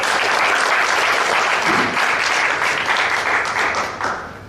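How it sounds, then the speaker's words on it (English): Loud, dense applause from a large audience at a business event, a continuous roar of clapping that holds steady for several seconds before tapering off at the end. "Give yourself a big applause."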